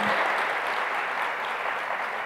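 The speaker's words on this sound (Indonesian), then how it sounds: "Tepuk tangannya boleh yang meriah buat Tuhan kita yang luar biasa." A church congregation applauding during a sermon by a pastor, a loud, dense and sustained burst of clapping from many hands, continuous and evenly spread throughout.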